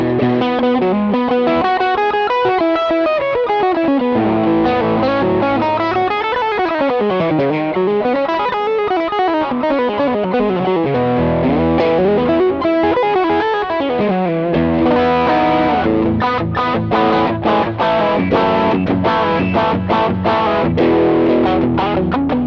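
A Valley Arts California Pro custom electric guitar plays through overdrive distortion, sustained gritty chords and sliding bends ringing loud and steady with no pauses, upfront and alone.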